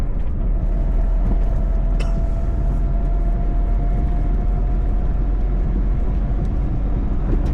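A 2012 Maruti Suzuki Alto K10 cruising on a highway, a steady droning engine and road rumble heard from inside the car, with a brief change around a gear shift partway through.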